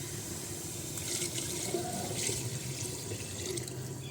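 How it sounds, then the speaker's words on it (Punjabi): Water runs and splashes steadily into a cooking pot of rajma, with a continuous close gushing that stays even from start to finish and no other sound over it. "ਤੇ ਹੁਣ ਆਪਾਂ ਇਹਦੇ ਵਿੱਚ ਪਾਵਾਂਗੇ ਪਾਣੀ"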